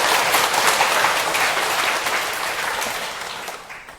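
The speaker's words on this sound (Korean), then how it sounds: "박수 한번 치세요" An audience at a Buddhist dharma talk claps together in a loud, dense burst that holds steady and then gradually fades out, with no speech on top.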